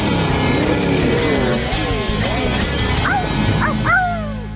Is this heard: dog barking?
yes